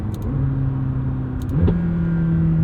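A 2021 McLaren 720S Coupe accelerating from inside the cabin, its engine note a steady droning hum that steps up in pitch as it shifts, with a deeper rumble swelling near the end.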